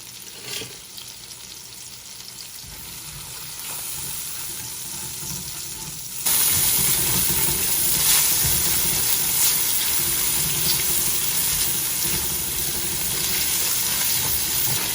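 Garlic and chopped onions hit hot olive oil for a seafood pasta; a gentle sizzle jumps to a loud, dense hiss midway and stays steady with faint stirring clicks, close and without voices.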